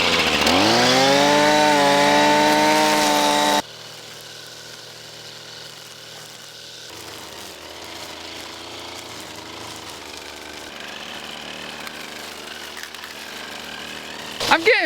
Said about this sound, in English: We got our weed whacker.